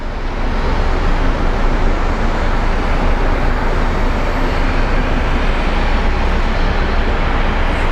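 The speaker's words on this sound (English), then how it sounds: "over there we have a Frontier Airlines Neo getting ready to depart" A Frontier Airlines A320neo jet roars through its takeoff at Sky Harbor International Airport, a loud, steady broadband engine rumble heard from outside and holding evenly throughout.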